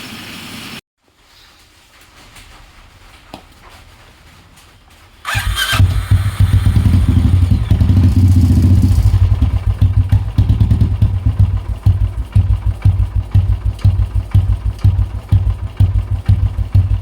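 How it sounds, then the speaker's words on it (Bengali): A Royal Enfield Classic 500 motorcycle is started up after a quiet stretch and then idles loudly and close by with a steady low thumping beat that goes on with no talk. "স্টার্ট করে তোমাদের গাড়ির সাউন্ডটা শোনাচ্ছি।"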